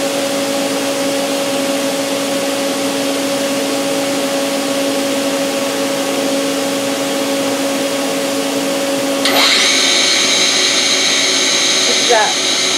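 A DMG Mori Sprint 42/8 linear CNC Swiss lathe runs its live tools with a steady loud mechanical whir and tonal hum, then shifts partway through to a higher, brighter whine as the spindle speed changes.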